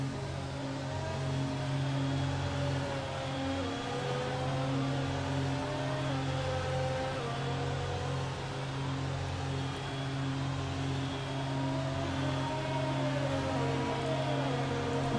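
An F1 2020 Formula One race car in the game's Hanoi circuit pit lane hums with a steady, droning engine tone and shifting whine, held constant and close for the whole stretch with no talking.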